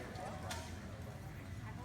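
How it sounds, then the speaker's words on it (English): Horses clip-clop at a medieval faire joust, the hoof beats faint and steady beneath a crowd's continuous murmur and nearby talk, with one sharper knock partway through. "The horses are amped up. They're ready to go, ready for battle this day."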